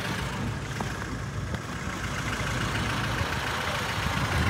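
A two-litre car engine idles at an outdoor car market, a steady low rumble with a continuous broadband hum that stays even throughout, no talking.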